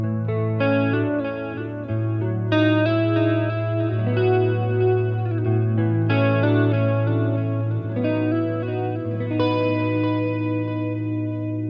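Clean electric guitar tone through a Boss Katana 50 amplifier, strummed chords and picked notes ringing out clearly with sustained low notes, played alone without talk.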